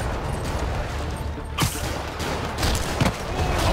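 Rockets explode in the Spider-Man video game, a few booming blasts and bangs over a continuous roar of action noise, moderately loud and layered.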